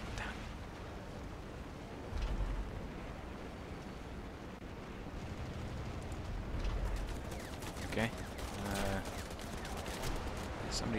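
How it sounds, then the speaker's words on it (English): Gunfire aimed at a World War One Albatross plane in War Thunder, a continuous rattle of distant machine-gun bursts over steady engine and wind noise, growing busier toward the end. "Somebody's still shooting at me."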